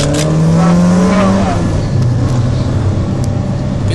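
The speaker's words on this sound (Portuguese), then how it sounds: "Sai fritando, vai." A Ford XR3 with an AP 1.8 engine pulls away hard, its engine revving loudly as the tires squeal in a long rising screech up close, with voices talking over the noise.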